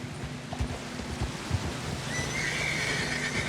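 A horse whinnies in the video game Red Dead Redemption 2, with hoof clip-clops and scattered thuds close by and a soft ambient wash behind.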